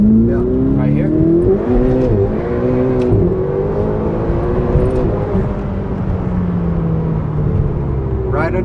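A Ferrari 488 sports car engine and exhaust drone loudly up close, with a steady throaty roar whose pitch slowly rises and falls.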